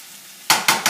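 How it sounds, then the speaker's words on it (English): Chopped extra-lean turkey meat and onions in a pan are stirred with a utensil, three loud scraping strokes after a quiet sizzle, close up and with no talking. "I'm going to add in the chopped meat just to combine it all, really, heat it all up"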